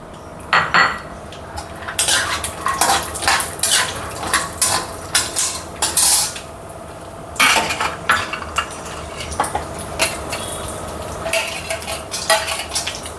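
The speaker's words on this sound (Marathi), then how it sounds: "काजू बादाम, काजू वीस ग्रॅम बादाम वीस ग्रॅम हे एकातच हे करूया आपण फ्राय" Cashews and almonds fry together in a pan for makhana kheer. Loud, irregular clanks and scrapes of a metal spoon against the pan sit over a faint sizzle, with no talking.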